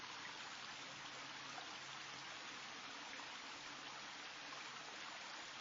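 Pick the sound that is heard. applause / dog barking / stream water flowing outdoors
stream water flowing outdoors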